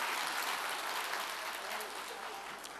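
Audience applause greeting the mayor as he is invited to the podium at a community evening event, a dense, steady clapping wash filling the whole stretch and easing slightly toward the end.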